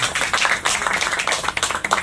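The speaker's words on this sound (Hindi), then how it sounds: "एक बार तालियां बजा दीजिए संजय सर।" An audience claps steadily at a seminar for RCM business partners, honoring the upline Sanjay Kumar Sahu. The dense, close applause runs without a break for the full two seconds, with a few faint voices mixed in.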